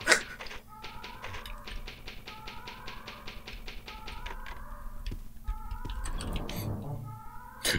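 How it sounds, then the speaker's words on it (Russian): Cats meowing in the Dreamcast game Resident Evil: Code Veronica, repeated rising mews over a steady tapping rhythm and game ambience, with a brief rumbling noise near the end. "Там коты какие-то мяукают,"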